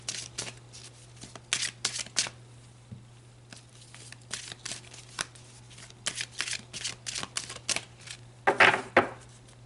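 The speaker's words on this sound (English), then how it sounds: "let's pull a couple more cards" Tarot cards shuffled by hand in quick riffling bursts with soft flicks and slaps as cards are pulled from the deck, close and fairly quiet over a faint steady hum.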